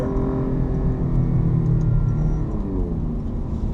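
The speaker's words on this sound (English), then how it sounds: "It's not that high pitch note, but it sounds pretty dang good for a Alfa Romeo." Alfa Romeo Giulia Quadrifoglio engine revving up loud and close, a deep throaty rumble that swells and holds before easing back, with no voices over it.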